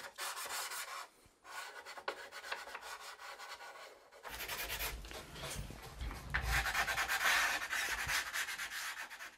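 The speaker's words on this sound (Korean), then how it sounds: "오칠 사이에 이루어지는 사포질에는 숯을 사용했다" Charcoal made from burnt camellia or machilus wood rubs steadily over the lacquered surface of a traditional Korean kite, a close, continuous gritty scraping in repeated strokes, alone without talk.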